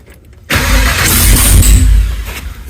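Chevelle engine cranks and catches after a short quiet pause, then settles into a loud, rough idle close by that fades slightly near the end.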